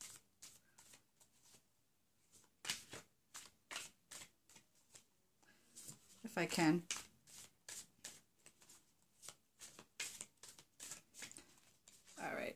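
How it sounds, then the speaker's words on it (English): Tarot cards are shuffled in quick, crisp riffling bursts, repeated many times and close, with a person speaking briefly between them. "I'm just going to shuffle the cards."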